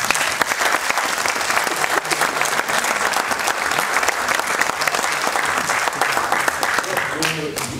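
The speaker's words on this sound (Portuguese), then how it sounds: "Acho que esta afirmação tem que merecer uma salva de palmas" A conference audience breaks into sustained, dense applause lasting several seconds, loud and even throughout, with a voice emerging faintly near the end.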